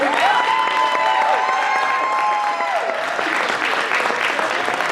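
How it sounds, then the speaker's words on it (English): Steady audience applause at a poetry slam fills the space, dense clapping holding at an even level throughout, with a sustained tone ringing over it early on. "Applaud the poet, not the score."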